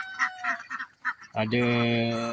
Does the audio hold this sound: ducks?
yes